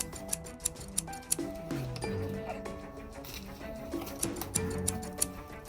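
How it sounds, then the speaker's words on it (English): Scissors snip through the packaging to free the pieces of a Marvel Avengers Hawkeye bow-and-arrow toy set, giving a series of crisp, close clicking cuts in an irregular rhythm alongside faint background tones and movement. "I gotta cut all these pieces off. Let me cut it."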